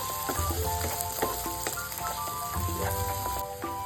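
Capsicum pieces and coconut powder fry in hot oil, a steady, dense sizzle with intermittent stirring scrapes and clinks, close and continuous with no voices.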